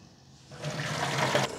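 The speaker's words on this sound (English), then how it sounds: "So if we just demonstrate this, let's fill our containers again." Water rushing from a pressurized buffer tank into containers at about 4 bar, starting after a quiet moment and then a steady, fairly loud gush that holds to the end.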